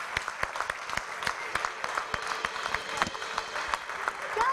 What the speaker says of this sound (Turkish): Alkışlarla geliyorlar.